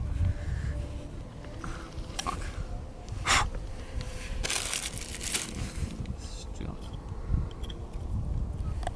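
Fully 3D-printed pistol firing a half-gram 3D-printed pellet round: a few sharp, brief pops stand out over close rustling, handling noise and breathing.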